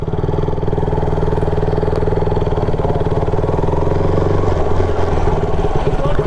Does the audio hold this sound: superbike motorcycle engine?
yes